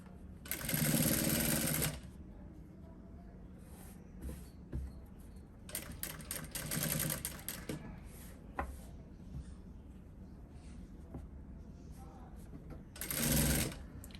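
A sewing machine stitches fabric in three loud whirring bursts, with quieter handling and rustling of cloth between runs.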